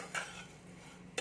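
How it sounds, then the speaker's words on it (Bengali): Spoon stirring salt and sugar into food in a bowl: two faint, brief scrapes a second apart over a quiet background hum, with no voices. "এবার এইগুলোকে আমি ভালো করে এর সাথে মিশিয়ে নিচ্ছি আগে।"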